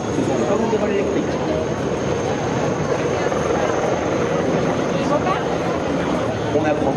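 A Tigre military helicopter flies close and loud at an air show, its rotors giving a steady, thick roar with a thin high whine on top that never lets up.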